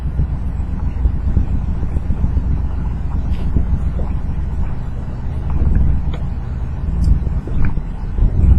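A wood-gas-powered truck engine idles at 600 to 800 rpm at a stoplight, a steady low rumble at a constant pace with broadband noise over it, holding even and moderately loud throughout.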